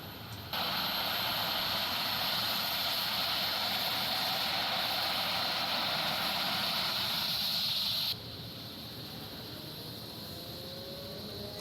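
A JRX MD902E helicopter engine in the X-Plane 12 simulator runs steadily as it spools to idle, holding a loud broadband whine that drops abruptly to a quieter hum near the end, with no talk.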